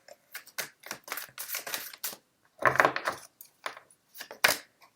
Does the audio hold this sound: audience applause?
no